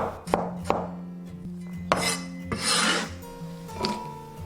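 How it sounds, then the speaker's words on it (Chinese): A knife slices a small piece of fresh ginger on a cutting board in a steady series of sharp thuds on the board with scraping between them, close and clear, with no voices. "一小块生姜切片"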